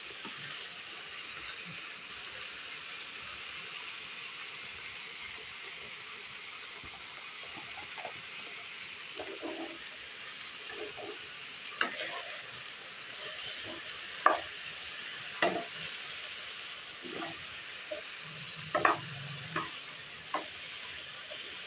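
Spices and broad beans frying together in a pan give a soft continuous sizzle, with sporadic stirring clinks and scrapes growing more frequent in the second half.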